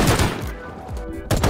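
Gunfire in the video game Rust: a close burst of shots, a quieter gap, then more shots at the end.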